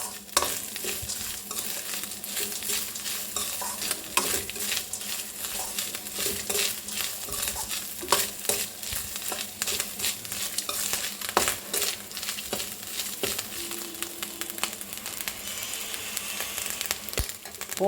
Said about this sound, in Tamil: ஜஸ்ட் ஒரு வதக்கு.